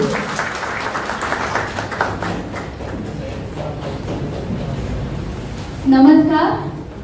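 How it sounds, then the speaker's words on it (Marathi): An audience claps at a book launch ceremony in Dombivli, a dense, steady patter of applause that swells into a louder burst near the end. "एका जोरदार टाळ्या होऊ द्या सर्व मान्यवरांसाठी."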